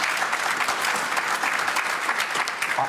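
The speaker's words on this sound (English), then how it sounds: "the one thing that gets me applause is this" Studio audience applauding on the BBC debate show Question Time, a steady, dense burst of clapping sustained for the full three seconds with no voices over it.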